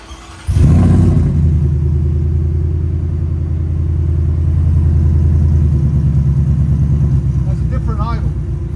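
Supercharged Ford F-150 with a 5.0L V8, headers and an NTR Pro Series muffler starts up and settles into a deep, loud, rumbling idle with a steady low pulse, close by and continuous.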